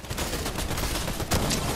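Rapid gunfire from the Fortnite video game crackles in a dense, continuous burst of overlapping shots. The volley is loud and near, with a sharp louder crack toward the end.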